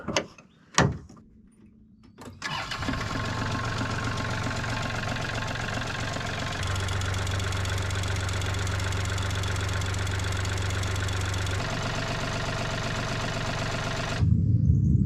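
A heavy excavator diesel engine with a fencepost exhaust stack cranks over after a clunk, then settles into a loud, steady idle that drones on with a rough knocking rumble.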